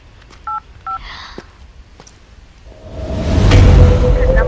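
Mobile phone keypad tones beep as a number is dialed, two distinct tones early on, then a rising whoosh and steady hum as the call connects.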